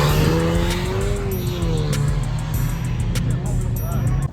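A drift-build car revs at a car meet, its engine rising and falling in pitch with tire squeal and crowd noise mixed in, loud and fairly close.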